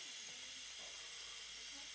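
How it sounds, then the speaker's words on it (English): Steam hissing steadily from an Instant Pot's pressure release valve while cooking hard boiled eggs, a constant broadband rush that holds level throughout without pause. "and let that steam"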